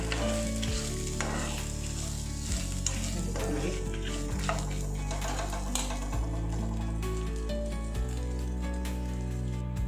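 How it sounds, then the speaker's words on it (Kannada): Continuous loud sizzling of garlic and coriander leaves frying in a pan, with scraping stirs and clinks, set against a steady droning background tune. "ಬೆಳ್ಳುಳ್ಳಿ, ಮತ್ತು ಸ್ವಲ್ಪ ಕೊತ್ತಂಬರಿ ಸೊಪ್ಪು ಇವೆಲ್ಲ ಸ್ವಲ್ಪ ಫ್ರೈ ಆಗಲಿ"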